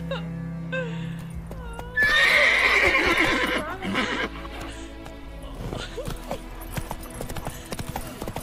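Roach, the horse in The Witcher 3 video game, gallops with steady clip-clop hoofbeats and lets out a loud whinny, the hooves continuing close and clear afterwards.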